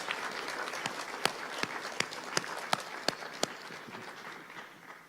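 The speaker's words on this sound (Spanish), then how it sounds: "Dele fuerte el aplauso al Señor, hermanos." A church congregation claps during a service, a steady wash of applause punctuated by a few sharp, louder claps near the listener, fading out toward the end.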